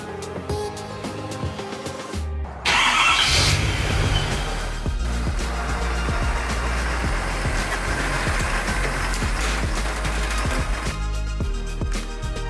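A truck engine cranks and catches after a short silence, then settles into a steady, rumbling run with faint clatter as the truck pulls out of a garage, close and fairly loud throughout.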